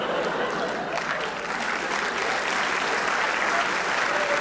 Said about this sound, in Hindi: ये ताली बजाने की थोड़ी बात है।